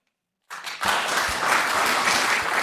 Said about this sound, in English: Ask that you refrain your applause